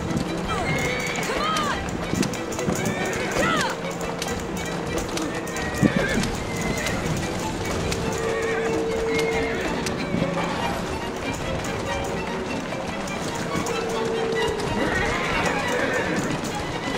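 Horse hooves clop at a gallop with repeated neighs and whinnies in Assassin's Creed Syndicate, steady and fairly loud over game ambience, with speech present throughout.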